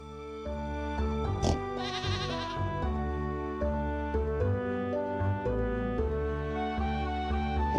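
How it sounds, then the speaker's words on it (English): Sheep bleating in the Stardew Valley farming video game, several wavering bleats in succession over a steady tonal music background, with no talking. "Look at this little sheep. It's so fuzzy."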